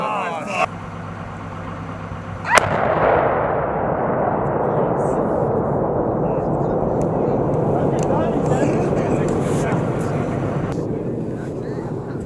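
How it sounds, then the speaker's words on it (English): A loud C4 explosive demolition blast goes off at an outdoor Marine demolition range in a realistic urban training area, a sharp boom followed by a long rumbling, rolling decay amid steady wind noise, with voices counting down beforehand. "Oh, C4."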